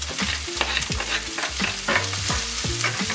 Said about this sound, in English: then we're gonna fry the bacon or the onions in that pork fat